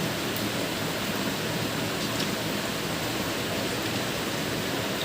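Steady rain falls in a broad, even hiss with no breaks, close and constant throughout, with no voices over it.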